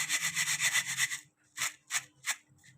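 Dry crackly rustling and crunching of crispy fried brown onions, a sustained scratchy burst followed by three short crisp crunches, close up and fairly quiet.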